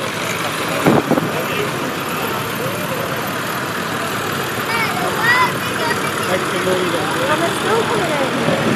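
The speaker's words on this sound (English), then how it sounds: "Robin Petley's Fordson Dexter, Super Dexter, the dual set to the earth, 4-wheel drive." Fordson Super Dexter four-wheel-drive tractor with dual wheels in a show tractor parade, its engine idling with a steady mid-pitched rumble under continuous commentary over a loudspeaker.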